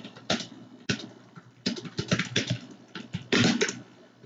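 Close, quick typing on a computer keyboard comes in short bursts of clattering keystrokes separated by brief pauses, with no voice over it.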